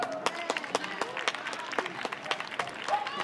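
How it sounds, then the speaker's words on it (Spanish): Scattered, uneven handclaps from a small crowd at an outdoor dog event in Alcorcón, Madrid, sounding as sharp, separate claps rather than a full ovation. "Un aplauso."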